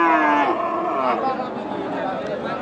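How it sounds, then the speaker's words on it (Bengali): A crossbred bull calf moos loudly and close by at a rural cattle market, one long drawn-out bellow with faint crowd noise behind it. "এগুলো সব পালন উপযোগী ক্রস ষাঁড় বাচ্চা"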